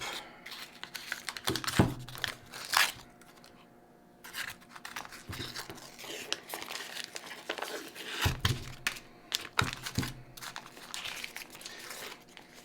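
Soft crinkling and rustling of paper wrapping as a 454-gram block of butter is unwrapped in a kitchen, intermittent close crackles and tears, fairly quiet.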